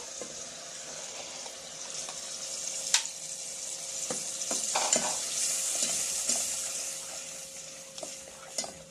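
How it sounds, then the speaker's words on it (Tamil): Chettinad chicken masala with tomato and onion sizzles quietly in a pan, with soft steady frying and occasional spoon stirs and scrapes close by. "இந்த மசாலாவை இன்னும் நம்ம இந்த ஒரு ஃபைவ் மினிட்ஸ்க்கு இதை நம்ம இன்னும் நல்லா குக் பண்ண வைக்கலாம்"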